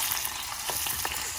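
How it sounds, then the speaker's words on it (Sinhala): Garlic and dal sizzle in hot oil as they are stirred, a steady close hiss broken by a few soft scraping strokes, with no voices. "ඊට පස්සේ මේක හොඳට කලවම් කරගමු"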